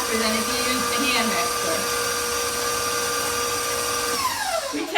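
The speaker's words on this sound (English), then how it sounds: "This mixer has a lot of power to it, so it does go a little bit faster than if you use the hand" A powerful electric stand mixer beats cinnamon pie filling with a steady, loud, close motor whine that holds throughout and winds down at the very end.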